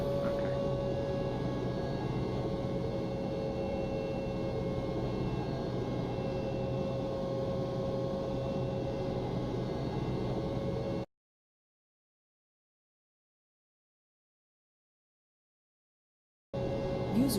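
T-6C turboprop trainer taxiing at idle in Flight Simulator X, a steady droning engine hum with a constant tonal whine that runs evenly, then cuts to total silence before resuming briefly.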